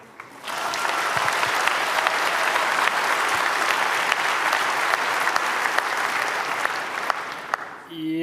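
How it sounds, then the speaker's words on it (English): Applause from a large audience welcomes speakers at the 28C3 hacker conference talk, rising quickly and holding a dense, even roar of clapping for about seven seconds before tapering off. "please welcome them with a huge round of applause"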